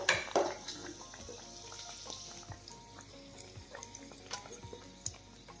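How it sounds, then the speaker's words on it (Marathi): Spinach leaves dipped in besan batter fry in oil on a low flame for palak pakoda, a sharp splash as a leaf drops in giving way to a quiet, steady sizzle with faint crackles. "असं पिठात पालकाचं पान बुडवून असं तेलात सोडायचं।"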